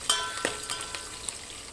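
Green chillies fry in a pan with a soft, steady sizzle, close and quiet, broken by a few small crackles and stirring clicks.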